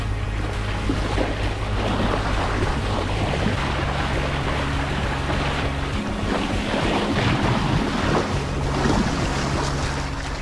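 Strong wind buffets the microphone aboard a sailboat over a low, steady motor drone and washing water, a continuous roar at sea with no voices.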